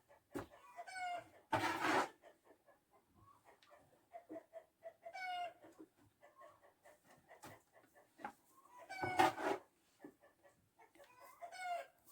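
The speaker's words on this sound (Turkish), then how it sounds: "Tavuklar bir yandan yumurtlamaya başladılar" Hens in a rural Turkish village yard cluck and squawk in scattered bursts, with a few louder sharp calls standing out against quiet gaps, fairly close and with no talking.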